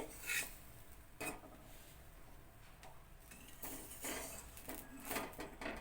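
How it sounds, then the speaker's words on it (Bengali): A metal lid clinks and knocks against a pan of chitoi pitha on a stove, with a few sharp taps and light scrapes scattered through an otherwise quiet kitchen. "আমি ঢাকনাটা তুলে নিচ্ছি"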